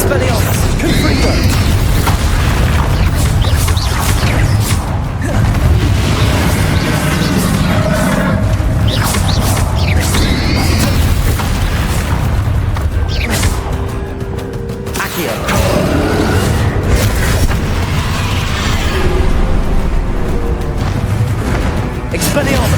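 Bombarda and Confringo spell explosions from Hogwarts Legacy: booming blasts and thwacks pile up in a loud, continuous battle din that runs the whole time, with no clean breaks between hits.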